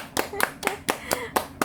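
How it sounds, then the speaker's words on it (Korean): Several bursts of hand clapping for a thankful friend, about five sharp claps in an uneven rhythm, close and fairly loud, with a little voice sound between them. "박수 쳐줄게요."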